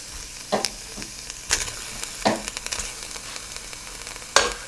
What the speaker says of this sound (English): Now I'm adding my mushrooms into it.